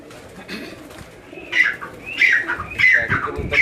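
Pigeons coo from inside a covered rooftop enclosure with a mesh cage and doors on both sides, several throaty calls rising and overlapping toward the end, fairly close, with no talk.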